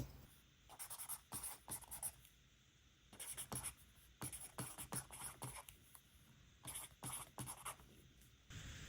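A pen writes quickly on paper, giving close, crisp bursts of scratchy strokes in irregular clusters separated by short pauses, with nothing else heard.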